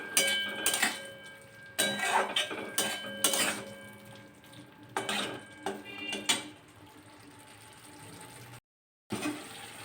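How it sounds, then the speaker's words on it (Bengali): A spoon scraping and clinking against a kadai while red radish ghonto with coriander leaves is stirred, in sharp irregular metallic taps and scrapes, close by, with a short silent gap near the end. "সব কিছুকে খুব ভালো মতো আমি একটু মিশিয়ে দেবো"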